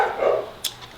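A single short bark from Remy the dog rings out briefly near the middle, with a faint echo just after, against a quiet indoor room.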